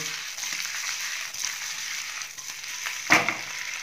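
Bottle gourd snack sizzles and rattles in a frying pan as it is tossed and stirred with chili flakes, with a sharp scraping clatter near the end.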